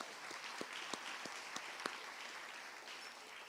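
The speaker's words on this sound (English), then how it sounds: "Let's give them a round of applause." An audience applauds the mayor and board: soft, distant, sustained applause with a few sharper individual claps standing out.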